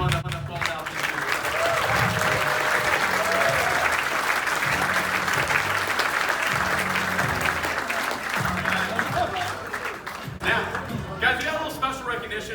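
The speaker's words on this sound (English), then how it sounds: "one more big round of applause for everyone that went up out this year" Loud, sustained crowd applause fills a Hall of Fame induction at Dave Bush Field, steady clapping with rhythmic bursts and voices mixed in throughout.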